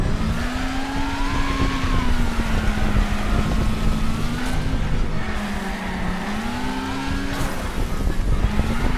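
A badly damaged race car in Wreckfest screams along with a steady, wavering engine drone, grinding and scraping throughout over about nine seconds, with brief tire squeals and metallic scrapes; loud and continuous, no talk.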